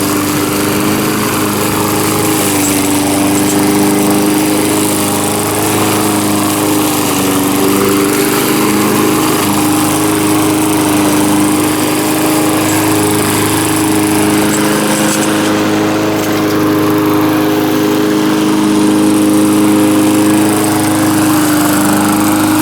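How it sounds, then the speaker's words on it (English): A lawn mower engine runs with a loose muffler flopping around, holding a steady, fairly loud buzzing drone close by for the full length, with no voices over it. "Surprisingly, with that muffler flopping around, it's not that loud."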